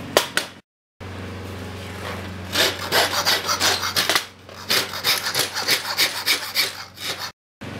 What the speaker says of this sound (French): je vais sans tarder faire la finition avec une lime pour métal pour que ce soit plus lisse